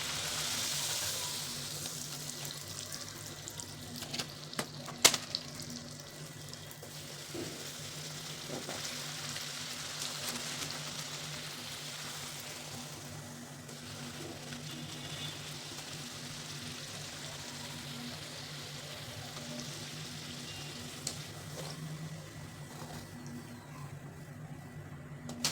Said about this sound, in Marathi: तर आता पटापट आपल्याला अशा तळून घ्यायच्या. पुरी तळताना भरपूर तेल